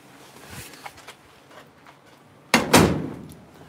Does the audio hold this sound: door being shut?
yes